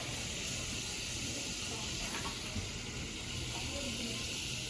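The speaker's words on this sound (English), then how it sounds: "Let that butter cook off a little bit." Butter sizzles in steak pan juices, giving a steady, loud, even hiss with a faint crackle that continues unbroken.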